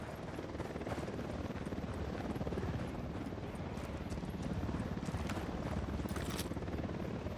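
Helicopter rotors drone and thump steadily throughout, fairly close and constant, in the video game Ghost Recon Wildlands.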